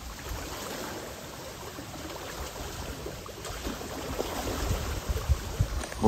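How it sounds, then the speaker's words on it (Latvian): Strong stream current in a rural drainage ditch, running steadily as a broad, continuous wash of water with low rumbling, close and fairly loud throughout, no voices. "Redziet, kāda tur riktīgi straume."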